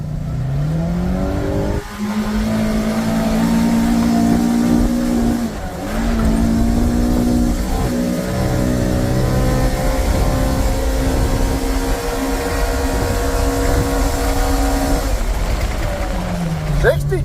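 A Kawasaki Ridge UTV in sport mode and two-wheel drive accelerates hard. Its loud, close engine whine climbs and drops back in steps through repeated shifts, with voices partly over it.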